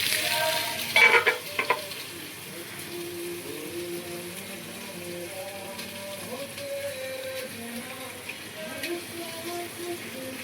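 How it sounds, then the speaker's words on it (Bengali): Chicken reshmi kababs fry in a pan with a steady low sizzle, preceded by a brief clatter of the pan or lid early on, and the frying hiss continues evenly up close. "এবার আমি 3খানা কাবাব দিচ্ছি। কাবাব দিয়ে আমি এটাকে বন্ধ করছি।"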